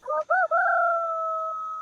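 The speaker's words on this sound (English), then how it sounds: "I wasn't expecting a rooster at night." A rooster crows once at night, loud and close, with a clear multi-part call that rises and then holds a long steady final note.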